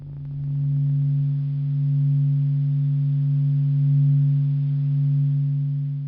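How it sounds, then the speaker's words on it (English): Vibrations of the sun, sonified and sped up 42,000 times, form a smooth sustained low hum of pure steady tones that swell and ebb gently in loudness across the whole stretch. "So this is the sound of the sun vibrating."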